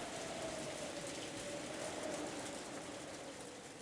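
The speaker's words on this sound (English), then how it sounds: "the sound of the wind and rain began to fill" Steady rain with wind fills a quiet room in a continuous soft wash of falling drops, faint and unbroken, with no voices.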